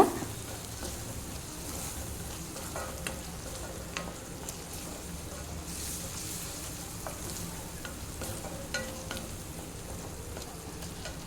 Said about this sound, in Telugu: అల్లం వెల్లుల్లి పేస్ట్ వేసిన తర్వాత బాగా వేయించుకున్న తర్వాత